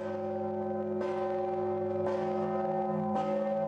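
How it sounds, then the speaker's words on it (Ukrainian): Church bells toll on Easter morning with three strong strikes about a second apart, each ringing over a sustained, humming resonance of earlier peals. "Великодній ранок церковні дзвони урочисто сповіщають, що Христос Воскрес."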